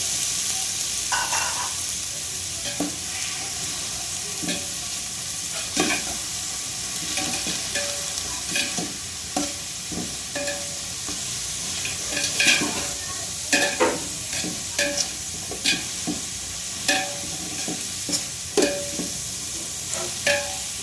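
Tomatoes and onions frying in a pan for coconut rice give a steady sizzle, with frequent clicking scrapes of a spoon stirring against the pan, growing more frequent toward the end; no talking.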